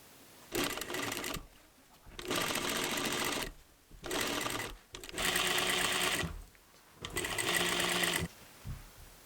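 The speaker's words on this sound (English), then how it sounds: "Now sew the folded edges of the bias tape to the sleeve." Sewing machine stitching the folded edges of bias tape onto a dress sleeve, in four bursts of steady rapid whirring separated by short pauses, close and clear with no talk.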